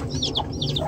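Several high, thin chirping peeps from chicks trapped in a net repeat in quick pairs, close and fairly clear over a soft background hum.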